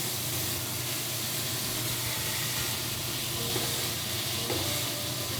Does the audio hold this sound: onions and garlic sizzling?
yes